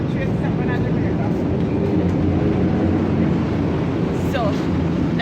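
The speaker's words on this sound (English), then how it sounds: "this is me going on a train for the first time" A moving train ride heard from inside, a constant loud rumbling rattle with wind-like noise and a faint high squeal near the end, a first train trip.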